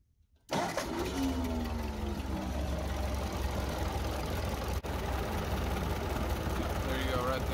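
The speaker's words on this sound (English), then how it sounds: "you can tell it's sputting and sputtering. It's not running good" Ford 8N tractor engine running rough and sputtering, its spark plug wires arcing over the head bolts; a loud, steady low rumble fills the clip after a sudden start, uneven in texture throughout.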